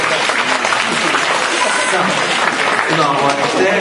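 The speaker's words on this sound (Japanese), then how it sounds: "大きな拍手どうもありがとうございます。" Dense, sustained applause from an audience at a children's concert for parents and kids, steady and close throughout the short stretch.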